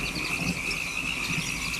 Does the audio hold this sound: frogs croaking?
yes